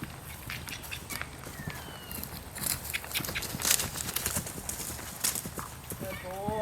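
Hank the horse canters under saddle, giving a brisk, rhythmic clip-clop of hooves close by on firm ground with an occasional whinny, while a trainer's voice talks over it.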